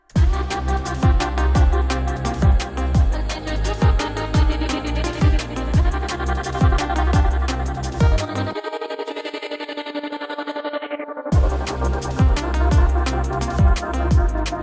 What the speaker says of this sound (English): that's kind of why I call it like the flutter effect, is because of the reverb